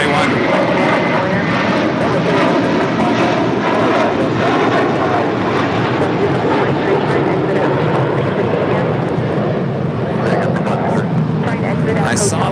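An Airbus A321 jet airliner at LAX gives a broad, steady engine roar that stays loud and close for the whole stretch, with some faint background chatter mixed in.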